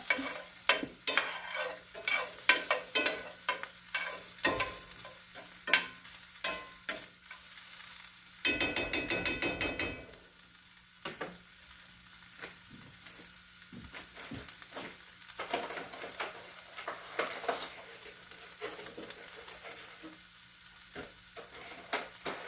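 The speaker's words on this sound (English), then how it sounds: "A little olive oil, and I'm going to get this stirred up." Food being stirred as it fries in olive oil in a pan: a continuous close sizzle with frequent scraping and clacking strokes of the utensil, one brief louder burst in the middle, no talking.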